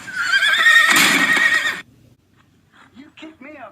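A horse whinnies loudly and at length in a film scene, followed by a short pause and then faint soft snorts and breathy sounds nearby.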